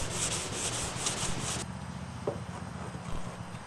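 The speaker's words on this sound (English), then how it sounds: "I'm starting with 320 grit sandpaper, working up through 600 grit." Fine-grit sandpaper, 320 to 600 grit, wet-sands a fiberglass sailboat repair in short, repeated back-and-forth strokes, close and fairly quiet, with no talking.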